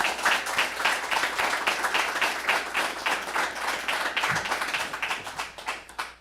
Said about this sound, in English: So I do want to give a round of applause for her.